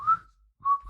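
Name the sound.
person whistling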